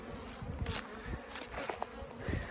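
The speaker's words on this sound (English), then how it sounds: "Box of bees." Dense, continuous buzzing of many honeybees packed close together in a box, a steady droning hum with brief louder swells.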